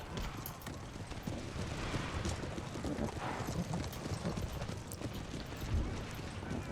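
Cavalry horses gallop in battle in the video game Empire: Total War, a dense continuous patter of hoofbeats with a broad rumbling wash of noise throughout.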